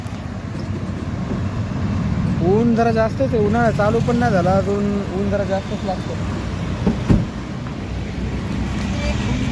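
A vehicle travelling on a road, a steady low rumble of engine and road noise running underneath someone talking the whole time, with a brief bump near the end.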